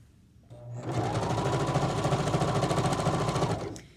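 A sewing machine runs a long continuous stitch on a pillowcase, starting up after a brief pause and humming with a fast, even mechanical rattle for about three seconds before stopping.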